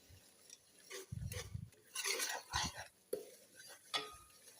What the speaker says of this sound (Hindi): लो टू मीडियम फ्लेम पे हम इसकी भुनाई कर रहे हैं।